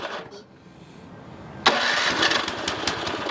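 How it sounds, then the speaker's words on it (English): A Troy-Bilt two-stage snow blower engine is started with its electric start: a quiet whirring crank for about a second and a half, then the engine catches abruptly and runs loud and close. "just push the button on the electric start"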